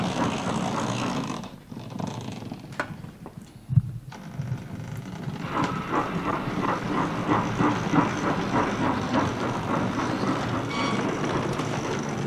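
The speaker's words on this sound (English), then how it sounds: "Using the yard's resident shunting engine, the first thing to do is to take the brake van off the arrived goods and shunt it into the yard's goods departure yard" Shunting engine moving a brake van through a railway goods yard at Bullo Pill, a steady rumble with rhythmic wheel clatter over rail joints, a sharp clank near the middle, fairly close and continuous.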